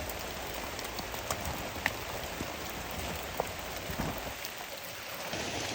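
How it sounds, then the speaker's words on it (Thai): Steady rain falling and pattering on a surface, with occasional sharper drips standing out against the constant hiss. "มืดแล้วตอนนี้ฝนตก"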